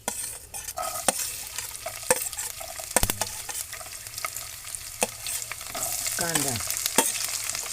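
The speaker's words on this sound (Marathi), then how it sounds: "मी आता याच्यामध्ये तेल टाकलंय दोन पळ्या आणि राई जिरं टाकतो आणि लगेच त्याच्यामध्ये मी लसूण टाकतो" Mustard seeds, cumin and garlic fry in hot oil in a home kitchen, a steady close sizzle with scattered sharp pops and crackles and some stirring, and no one speaks.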